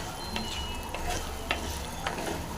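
Indian gooseberries for pickle fry on a low flame, a soft, even sizzle with a few light clicks of a spoon against the pan.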